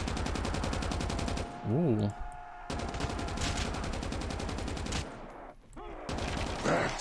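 An RPD machine gun fires in Call of Duty Mobile Zombies, a steady rapid stream of rounds that pauses briefly and resumes, loud and continuous, with a short spoken exclamation.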